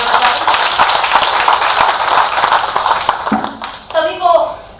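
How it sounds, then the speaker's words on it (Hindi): An audience at a Hindi poetry recital claps vigorously in honour of the event's host, a dense, steady burst of many hands that fades as a voice begins speaking near the end. "मैं चाहती हूँ आप लोग एक बार उनके सम्मान में जोरदार तालियां बजाएं।"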